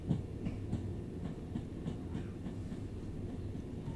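A Class 378 electric train pulls out of Euston on the Watford DC line, a quiet rolling rumble with faint rhythmic clicks of wheels over rail joints, no voices.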